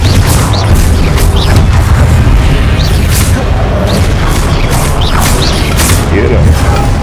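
Repeated Confringo fire spell blasts in Hogwarts Legacy come as several loud booming explosions with mechanical clatter through a dense, noisy battle.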